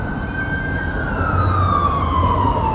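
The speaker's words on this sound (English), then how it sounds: "Oh, that's the ambulance." An ambulance siren wails close by, its pitch sliding downward as it passes over a low engine rumble.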